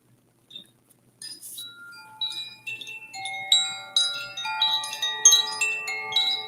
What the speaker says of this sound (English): I love these chimes.